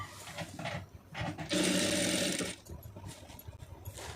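A sewing machine stitches a net sleeve in one continuous, close, loud whirring run of about a second, set between quieter handling noises.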